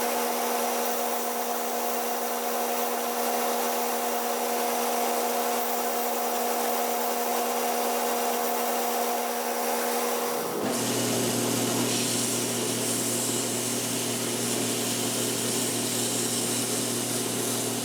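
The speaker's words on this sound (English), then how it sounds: "that footage you were just watching was me shaping that rough cut" A power tool shapes a rough-cut compensated guitar nut, running as a steady whine that abruptly shifts to a lower, rougher pitch partway through, continuing without pause.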